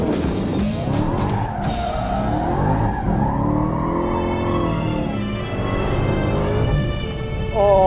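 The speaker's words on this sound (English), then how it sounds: "I just love driving Challengers on the track." A 2020 Dodge Challenger SRT Super Stock on a race track, engine revving up and down through gears with tires squealing and skidding, loud and continuous from inside the car.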